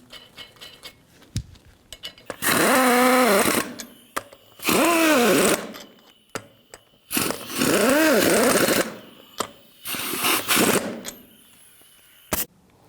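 Lug nuts being run onto the front wheel of a 1992-present Ford E-250 van with a pneumatic or power impact tool, four loud whirring, ratcheting bursts of a second or so each, separated by short pauses and small metallic clinks.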